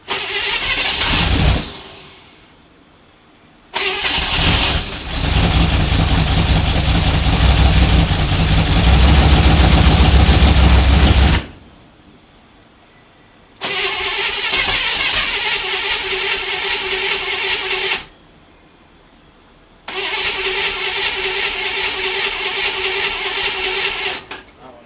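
A 1955 Chevy with a 265 engine cranks over repeatedly in its first start attempts, several loud bursts of grinding starter and rough catching separated by pauses, close up.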